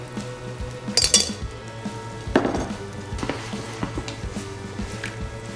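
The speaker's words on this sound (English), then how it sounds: "The pan back up to speed, and we'll put in the shrimp, and this will take 2 minutes to cook" Shrimp cook in a hot pan with a steady low sizzle, broken by a few metallic clinks and scrapes of a utensil against the pan, and no talking.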